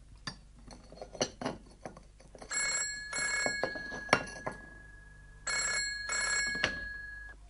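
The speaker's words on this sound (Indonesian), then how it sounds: "She's answering the phone." An office telephone in a physics department rings in two double-ring bursts, each pair of trills clear and fairly close, with clinks of cups and spoons from tea being made in between.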